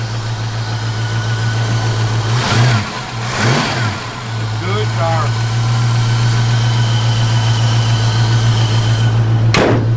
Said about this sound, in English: little sweetheart 289 car just fires right up